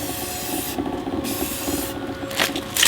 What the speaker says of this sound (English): Spray it from a distance